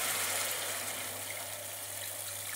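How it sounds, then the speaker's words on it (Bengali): Water pours steadily into a simmering Bengali rohu-style bata fish curry with potato and taro, a continuous close, even gush with no talk. "এইবার আবার একটুখানি নেড়ে চেড়ে নিয়ে এবার জল ঢেলে দেবো।"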